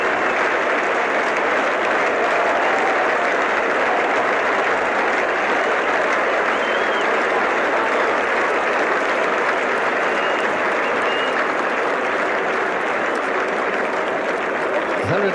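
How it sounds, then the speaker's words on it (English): A cricket ground crowd applauds West Indies batsman Kallicharran after a fine innings against Australia, a loud, continuous wash of clapping from the stands that holds steady throughout without letting up. "The Australians applauding, and the ground is rising to Kallicharran"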